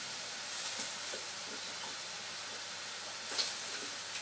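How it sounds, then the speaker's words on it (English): Chilli sauce simmers quietly in a pan, a soft steady sizzle and bubbling hiss with faint occasional stirring scrapes, low and continuous throughout. "So all I'll do is I'll literally let this simmer down now"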